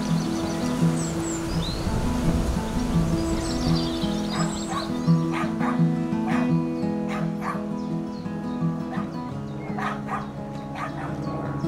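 A dog on a lakeside walk barks and whimpers in a string of high, tonal yips and whines over a steady low hum, with faint birdsong in the background.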